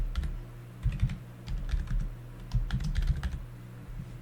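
A computer keyboard clatters as a call sign is typed, several quick bursts of close clicky keystrokes separated by short pauses, with no voice.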